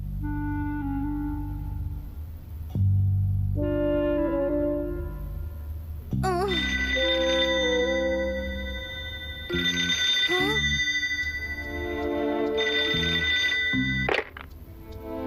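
A telephone rings through the night in Dekisugi's room in an animated Doraemon episode, the bright repeated ringing tones rising over background music and cartoon voices, with pauses between bursts.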